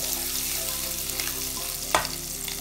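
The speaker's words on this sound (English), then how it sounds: "I'm gonna put my cumin seeds and ginger garlic in there. Sauté it for some time." Cumin seeds with ginger and garlic hit hot oil, making a loud, steady sizzle up close, broken by one sharp clack of a utensil against the pan near the end.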